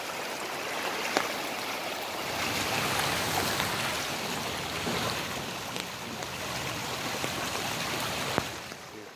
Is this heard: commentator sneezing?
no